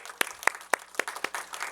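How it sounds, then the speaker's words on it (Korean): A short burst of audience applause in a church education lecture hall, with a handful of distinct claps spaced irregularly at moderate volume, sparse and fading rather than sustained. "박수를 기대했던 건 아니지만"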